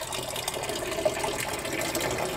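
Continuous trickling, splashing rainwater flowing steadily at moderate level along a polytunnel gutter, no voices.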